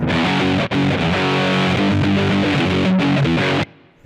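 Electric guitar played through a Yamaha THR amp with gain gives loud, dense distorted chords and riffs with a brief break, then cuts off abruptly into near silence.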